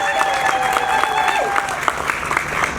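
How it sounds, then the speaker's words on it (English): Applause from an audience at a women's gathering fills the whole stretch, dense and steady, with a few whistles or cheers rising over the clapping. "Can you please give her a round of applause?"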